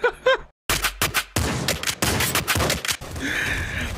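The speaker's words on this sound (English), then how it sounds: "Why is everything exploding this week?" Explosions in the video game Nuclear Throne erupt in a rapid, loud barrage of blasts and gunfire-like cracks, with short gaps between bursts and a sustained roar near the end.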